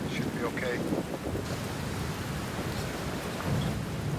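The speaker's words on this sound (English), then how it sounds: "And then it started raining." Steady rain falls around a motorbike rider on a trip through Switzerland, a continuous broadband hiss with wind noise buffeting the microphone throughout, loud and unbroken.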